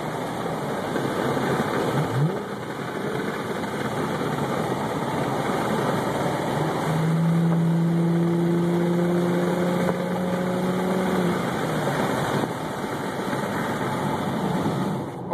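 A 2011 Chevrolet Camaro V6 with a custom Magnaflow exhaust idles with a steady low rumble, and a brief smoother rise in tone comes through the middle before it settles again; no talking.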